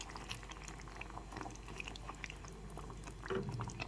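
Rohu fish curry with masala simmers in a pan on a gas stove, a faint steady bubbling and popping with soft crackles that rise briefly near the end.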